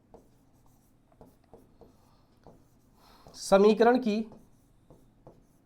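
Chalk or marker taps and scratches on a board as equations are written in a classroom maths lesson, a scattering of short faint strokes around someone speaking briefly.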